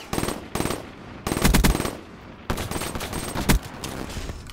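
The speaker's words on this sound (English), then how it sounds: "Wow, killed him on the last shot." Automatic gunfire in the shooter game Black Ops 3 comes in several sharp, loud bursts with brief gaps between them during a team deathmatch round.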